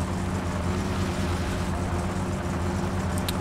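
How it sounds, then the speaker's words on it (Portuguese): Steady engine drone of a Satsuma car in the My Summer Car video game, cruising calmly in fourth gear at about 70 km/h with a cold engine, a continuous low hum heard alone without talk. "Motor frio e tal. 4ª marcha, 70 por hora, bem tranquilinho."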